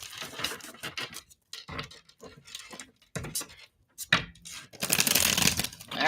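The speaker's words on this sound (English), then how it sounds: "All right, last shuffle for super chat answers" Rapid riffling and slapping of tarot cards in bursts separated by short pauses, ending in a longer, louder flurry of shuffling.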